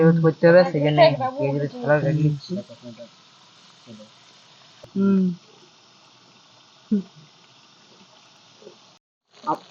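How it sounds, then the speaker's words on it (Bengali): Fish fries in hot oil with a steady, faint sizzle. A voice talks over it at the start, and occasional soft clinks sound from the pan. "আমরা দেখো মাছগুলো কত সুন্দর বেশ ভালো করে বেশ ভালোভাবে ভাজিয়ে দিচ্ছি"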